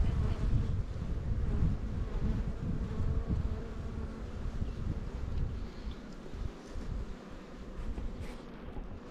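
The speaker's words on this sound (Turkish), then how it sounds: "bu da benim kattığım oğul" A honeybee swarm, a newly added colony at a mountain apiary, buzzes in a dense, steady drone close by, mixed with gusts of wind noise on the microphone.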